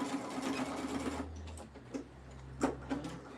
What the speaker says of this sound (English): I'm going to back stitch that just a little bit higher